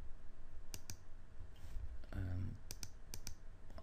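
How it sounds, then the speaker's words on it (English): Sharp computer mouse clicks during left-click-and-drag and right-click actions in NVMS recording software, several isolated clicks spaced irregularly, close and clear over a low background hum with a brief murmur of voice in the middle. "If I left click and drag, hold down the control, left click and drag, right click and back up"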